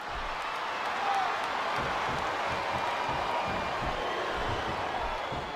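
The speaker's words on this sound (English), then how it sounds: "I love hearing the crowd come alive" A large crowd in a wrestling video game roars and cheers steadily, a dense wash of noise that stays loud and even throughout.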